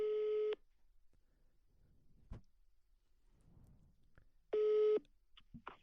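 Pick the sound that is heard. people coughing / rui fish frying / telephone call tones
telephone call tones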